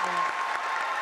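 Spelling bee audience applauding in a hall, a dense, steady wash of clapping and crowd noise that holds at an even level for about a second.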